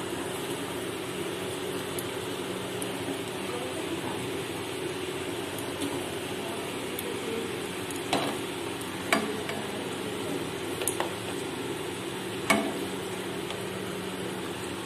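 Fish frying in a pan of oil seasoned with Kashmiri chili and a little sugar, giving a steady, even sizzle with a few sharp utensil taps over it.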